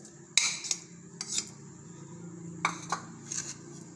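A spoon clinks and scrapes against a bowl while potatoes, tomatoes and onion are mixed into a chickpea chaat, with sharp intermittent taps over a quiet kitchen hum.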